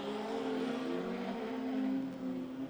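Speedway race cars roar around a dirt track in a continuous, moderately distant engine drone with shifting pitch as they circle.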